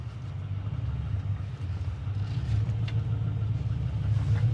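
A 1963 Ford Fairlane 500 with a small 221 V8 cruises along, its engine giving a steady low rumble and droning hum that builds slightly toward the end, heard from inside the car.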